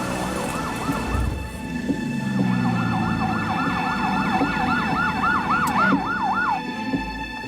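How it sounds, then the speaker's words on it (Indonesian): An ambulance siren wails in a fast rising-and-falling cycle, loud and steady over traffic noise for several seconds before cutting off. "Pasti ini ambulans."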